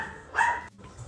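A single sharp bark from a dog in a pet shop, close and clear, rising out of a quiet room hum before fading.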